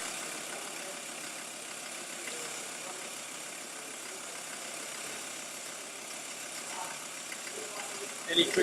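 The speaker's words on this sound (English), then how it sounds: "So you can hear the engine note changing." A car engine runs steadily at a workshop, its note shifting slightly over time, with a rougher burst near the end.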